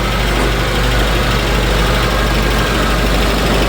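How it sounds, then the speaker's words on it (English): A Suzuki car engine idles a little high in a garage, a continuous, dense mechanical drone with no pauses and no voices. "You can see the car is running."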